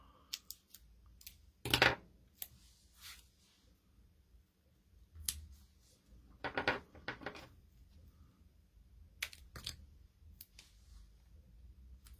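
Scissors snip through pieces of paper card in a paper craft kit, giving a handful of sharp, close cuts spaced irregularly with quiet pauses between them.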